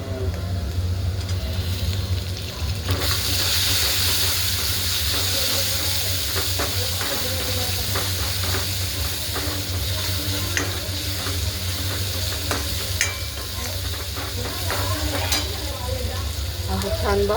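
Tomatoes tipped into roasting whole masoor masala, frying: a loud continuous sizzle and steamy hiss that swells after the tomatoes go in, with frequent spatula scrapes and clicks close by.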